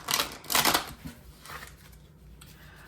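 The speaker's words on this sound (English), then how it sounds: "All right, I'll shuffle." Tarot cards are shuffled by hand in brisk riffling bursts, two strong flurries and then softer rustles, close and clear with no talking.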